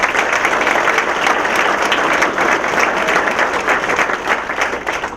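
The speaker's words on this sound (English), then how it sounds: "Let's give them all a round of applause." Guests at a chamber of commerce annual dinner give a loud, continuous round of applause. The clapping stays dense and even from start to finish with no voices over it.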